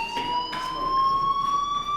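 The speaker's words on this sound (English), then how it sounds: "do you hear that fire alarm? That means you should be outside." School fire alarm in the video game Life Is Strange, a loud, continuous electronic tone that rises slightly in pitch and sounds alone throughout.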